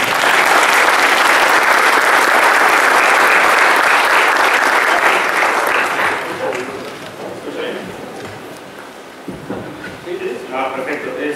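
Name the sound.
audience applause for a conference speaker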